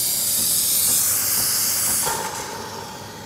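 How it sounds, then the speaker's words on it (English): A Sage Barista Pro espresso machine builds pressure for its steam arm: a loud, continuous rushing hiss, then a quieter steady hum from the little pump takes over partway through, with no talk. "there's a little pump in the background, you know, trying to generate the pressure for the steam arm"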